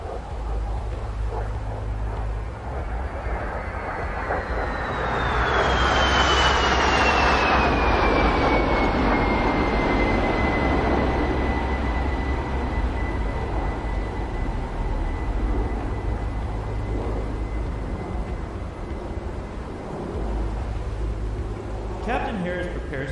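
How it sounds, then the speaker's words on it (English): An A-10 Hog jet in the DCS flight game performs a double aileron roll at a virtual air show, its engine a loud sustained roar with a whine sliding downward as it passes, while a commentator talks over it. "From the left, Captain Harris and the double aileron roll."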